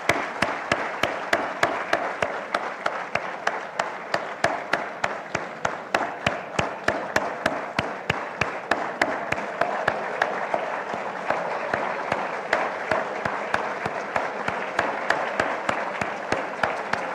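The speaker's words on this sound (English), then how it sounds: "give a loud round of applause to your parents and family members present here" Loud, sustained applause from a large audience at a medical college academic awards ceremony, graduates clapping steadily for their parents and families, dense and continuous throughout with no talk over it.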